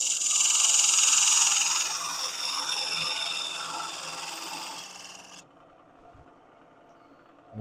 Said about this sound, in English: Let's grab the sidewall scraper here.